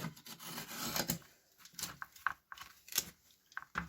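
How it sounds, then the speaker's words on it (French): A piece of geotextile fabric is cut to size for a worm composter lid, heard as a short series of quiet, close snips and rustles with gaps between cuts. "j'ai récupéré un bout de géotextile donc, que je vais découper hop, à la taille du couvercle"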